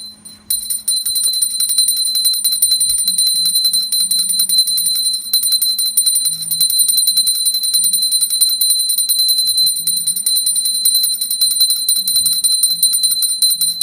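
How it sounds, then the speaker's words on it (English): A brass hand bell rings continuously during a Hindu aarti ceremony, a rapid, steady, bright jangle held at even loudness throughout, with faint low murmurs beneath. "And the bell should still be ringing."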